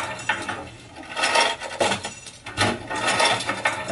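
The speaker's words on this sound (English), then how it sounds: "jiggling doorknobs." Doorknobs are jiggled as a percussion sample taken from a studio recording session. Close, rattling metallic clacks and scrapes arrive in uneven bursts, with no voices.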